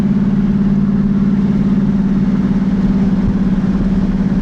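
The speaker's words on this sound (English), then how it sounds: "We're just going to cruise, break this engine, and we're not going to beat on it." A 1937 Buick street rod with a new BluePrint Engines 350 crate engine cruises gently, giving a steady, loud low rumble with an even throbbing pulse throughout and no revving.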